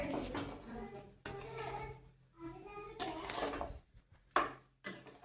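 A kadhai of long-sliced onions frying in oil, stirred with bursts of metal clanging and scraping between quieter gaps, loud and close.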